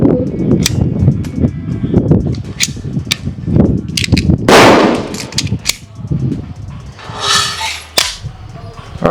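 A T50 .50 caliber PCP airgun fires 235 grain slugs at a 25-yard target, giving several sharp, loud cracks at irregular intervals, separated by quieter handling noise and faint voice.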